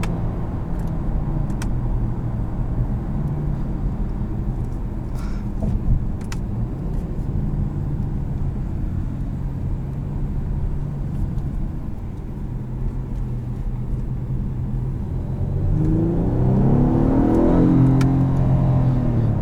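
A 2018 Acura TLX A-Spec with a 3.5L V6 engine pulls hard under paddle-shifted acceleration, a loud, sustained cabin drone of engine and road noise that swells and climbs in pitch toward the end as revs rise.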